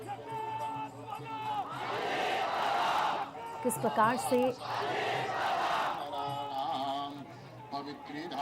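A large crowd gathers at the funeral of Maharashtra's deputy chief minister Ajit Pawar, shouting and chanting in loud, surging waves while a reporter speaks over the din.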